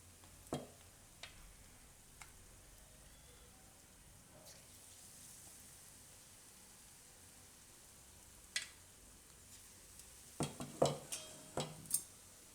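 Bottle gourd slice bhajiya fry in oil with a faint, steady sizzle, broken by occasional clinks of utensils that grow busier toward the end.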